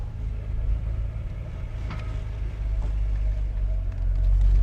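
A Nissan Skyline's engine hums and rumbles steadily from inside the car while driving, a low continuous drone that swells slightly toward the end.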